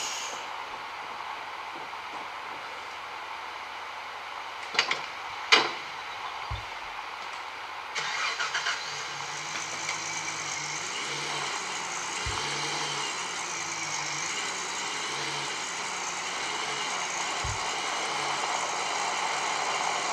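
A truck engine in the video game Gold Rush The Game starts after a few sharp clicks, then settles into a steady, droning idle with occasional low thumps, no voices.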